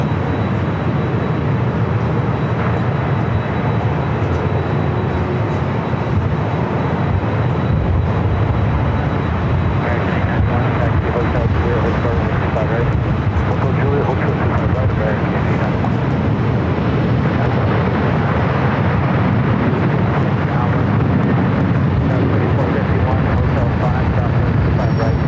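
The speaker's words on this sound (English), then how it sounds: "Polish Airlines and 787-9 Dreamliner heading back to Warsaw is the next takeoff on the south side." A LOT Polish Airlines Boeing 787-9 Dreamliner takes off from LAX's south side, a loud, sustained broadband jet roar rumbling steadily for the whole stretch.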